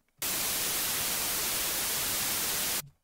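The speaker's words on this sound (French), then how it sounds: "Et nous avons un bruit blanc." White noise generated by the 3X OSC synthesizer in FL Studio, a steady full-band hiss that starts abruptly, holds at constant loudness for about two and a half seconds, then cuts off.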